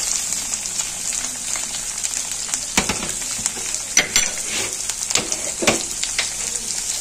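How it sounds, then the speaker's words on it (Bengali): Chopped onions frying in a hot pan after ginger garlic paste for a dhaba-style egg curry, giving a bright steady sizzle with a few sharp spatula scrapes and crackles partway through. "আগে থেকে যে পেঁয়াজ কেটে রেখেছিলাম পেঁয়াজটাও দিয়ে দেবো।"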